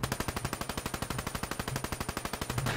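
Rapid automatic gunfire in the video game Black Ops 3, a loud, steady burst of evenly spaced shots lasting nearly three seconds with no voices.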